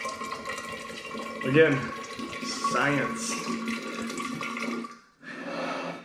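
Water poured out of a HidrateSpark Steel bottle, a splashing, gurgling pour that swells twice over a few seconds, close by, with a person talking over and between the pours.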